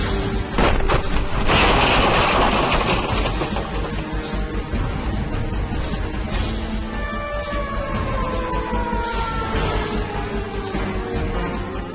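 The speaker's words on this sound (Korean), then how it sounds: "가스가 폭발했습니다." Gas explosion: a loud, dense blast with roaring rumble and crashing debris, sustained heavy noise that lingers for several seconds.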